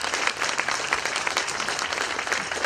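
Steady round of applause from a crowd at a city store opening, dense clapping sustained throughout at a fairly loud level with no one speaking.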